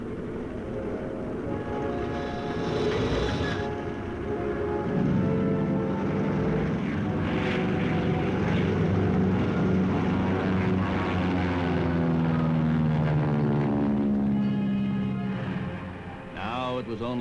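A World War II propeller fighter drones loudly overhead, its engine pitch rising and then sliding downward as it passes, with a narrator talking over the steady roar.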